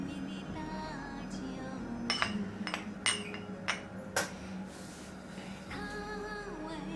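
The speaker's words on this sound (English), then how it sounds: "I'm going to give this a pretty heavy rinse" Ceramic teaware clinks while Dong Fang Hong Dancong tea leaves are rinsed, with a cluster of light, sharp taps and knocks in the middle over a quiet, steady background.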